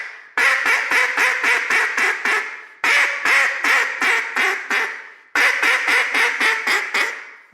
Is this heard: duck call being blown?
yes